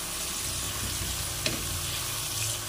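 Food for nasi kuning fries steadily in a pan with a constant sizzle, and a single scrape of stirring cuts through partway.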